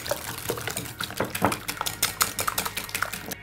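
Sugar, vanilla sugar and eggs are mixed for madeleine batter in a bowl: quick, irregular clinks and scrapes of a utensil against the bowl in a lively rhythm, close up, with no voices.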